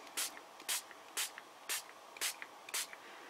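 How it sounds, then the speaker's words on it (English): Spray bottle spritzing water onto a rubber stamp, six short, crisp hissing bursts at a steady rhythm about half a second apart, close and clear with no talking. "So, spritz again."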